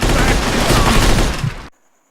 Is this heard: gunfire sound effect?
yes